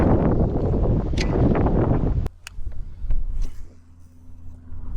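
Wind gusting during a bass fishing outing with weightless soft plastic swimbaits, a loud broadband rush for the first two seconds that drops off abruptly, leaving a quieter, unsteady hiss with a few faint knocks.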